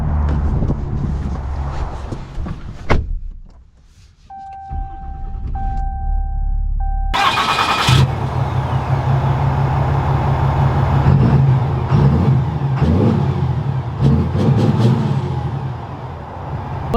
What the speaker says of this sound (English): let's take this Bighorn Night Edition out and see how it drives